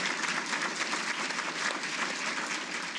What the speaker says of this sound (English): one more collective round of applause